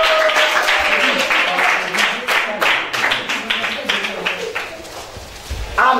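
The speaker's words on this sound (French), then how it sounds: "Applaudissements." A group claps and applauds at a Christmas gathering with children at a foundation, the clapping sharp and fairly close. The rhythm is uneven and sometimes fades, and there is a brief thump at the end.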